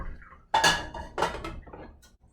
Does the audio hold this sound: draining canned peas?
yes